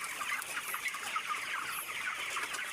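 Chickens being raised in the Philippines cluck steadily in a continuous overlapping chatter of many birds, close by and fairly loud, with no voices over it.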